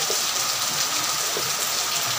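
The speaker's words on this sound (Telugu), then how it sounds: "అసలు ఎండలో కూడా వర్షం కురుస్తుందండి" Steady rain falls in sunshine, a constant close hiss of drops with no pauses or voices.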